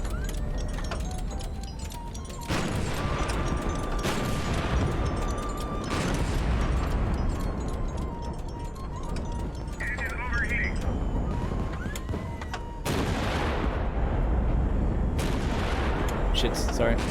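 Proximity-fuse incendiary missiles launch and detonate in the HIGHFLEET naval combat video game: a run of heavy, booming blasts at irregular intervals, with a voice talking over the battle.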